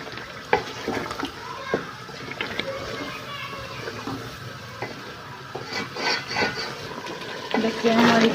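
Potatoes and peas fry in a pan with garlic while being stirred, giving soft sizzling with intermittent scraping and clinks of the spoon; a voice talks faintly in the background.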